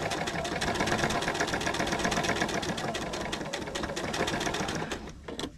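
A sewing machine stitching a baby quilt made from a panel runs in a fast, steady mechanical chatter of rapid stitches, close and loud, then slows and stops near the end.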